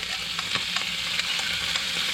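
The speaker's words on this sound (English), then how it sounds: "as you can hear, sizzling straight away" Freshly caught squid, tube and tentacles, sizzles loudly in hot oil in a pan outdoors at dusk in Port Victoria, South Australia, a constant crackling hiss with sharp pops scattered throughout.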